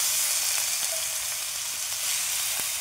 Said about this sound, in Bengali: গোবিন্দভোগ চালটা ধুয়ে রেখেছিলাম, একটু ভাজা ভাজা করে নেব।